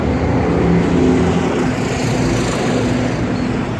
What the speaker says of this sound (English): Wow, it's a loud truck.